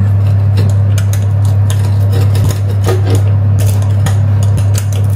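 A knife works through hard food with a run of dull cutting knocks and clicks against dishes, close by, over a loud steady low hum.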